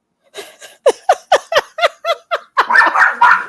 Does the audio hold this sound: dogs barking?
yes